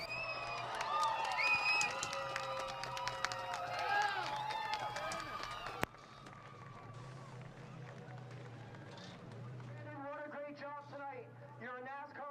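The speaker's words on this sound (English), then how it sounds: "How about a round of applause for Brandon Watson?" Race fans at Delaware Speedway applaud and cheer NASCAR Pinty's Series winner Brandon Watson at the Fall Brawl, a broad wash of distant crowd noise swelling between stretches of an announcer's talk.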